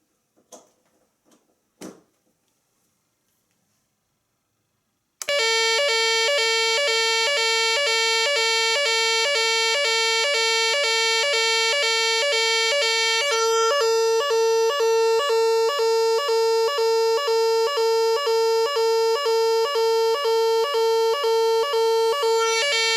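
A Nugelec BAES emergency alarm unit sounding very loud and close, a continuous pulsing electronic tone repeating steadily after a few soft clicks from handling.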